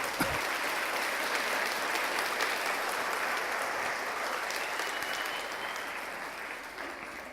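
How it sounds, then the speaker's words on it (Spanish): Members of a church congregation clap together in steady, dense applause that holds evenly for several seconds before fading slightly at the end, with no voices rising above it. "Dele un aplauso al Señor por ello"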